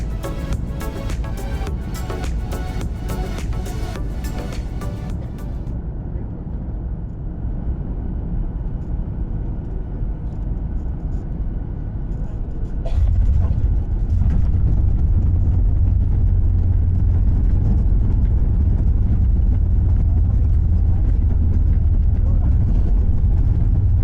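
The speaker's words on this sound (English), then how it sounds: "soon we were on final approach to Kilimanjaro International Airport." A Boeing 737 MAX 8 on final approach to Kilimanjaro International Airport, heard from inside the cabin as a steady engine and airflow roar. Partway through, a deeper, louder rumble takes over and holds to the end.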